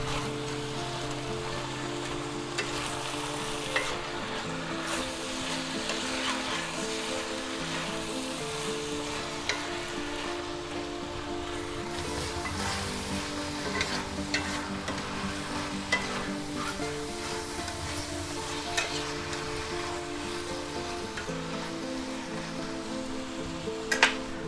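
Chicken, broccoli and mushrooms stir-fry in a pan with a continuous crackling sizzle, while a utensil scrapes and knocks the pan in irregular strokes. Near and fairly loud, with no voices throughout.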